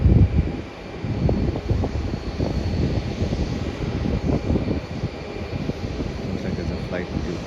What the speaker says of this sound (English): Next flight is a part of the flight to Canberra, and that is Virgin Australia Boeing 737